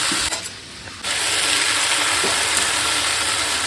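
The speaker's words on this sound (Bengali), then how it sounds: "শাকটা ভেজে নিচ্ছি" Water spinach (kalmi shak) frying in a pan gives a steady, loud hiss and crackle that continues without a break, after a brief quieter dip near the start.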